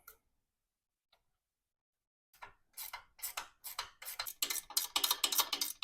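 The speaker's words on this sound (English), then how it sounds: "Another win for ratchet wrenches." Ratchet wrench working loose bolts on a 1989 Harley-Davidson Evo Electra Glide during teardown: quick, close metallic clicking bursts that start after a near-silent stretch and grow louder and denser.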